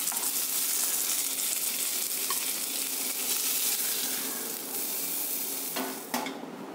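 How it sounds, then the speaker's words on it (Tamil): Chicken pieces sizzle and crackle steadily in a hot pan, a dense, close frying hiss that runs throughout with an occasional clink or scrape of turning near the end. "பாருங்கள், இப்போ சிக்கன் நல்லா ஃப்ரை ஆயிடுச்சு."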